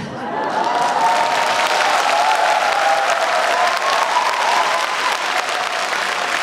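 A large concert audience at the Ulsan 'Thank you! Ulsan!' hope concert applauds steadily to welcome a singer, a dense, loud, sustained wash of clapping with crowd noise and a faint voice or tone above it.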